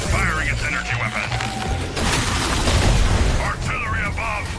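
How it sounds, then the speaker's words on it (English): Energy cannon blast in the Suicide Squad: Kill The Justice League game, a loud sustained booming roar with rumbling low end, surging midway, while characters talk over it. "The cannon is firing its energy weapon."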